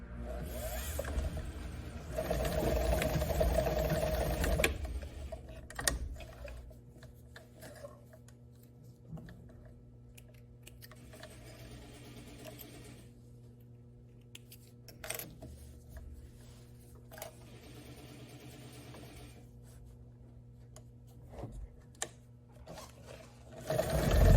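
A sewing machine stitches elastic onto a wide-leg pant in a short, fairly quiet run near the start, followed by long low hum and occasional soft clicks and taps.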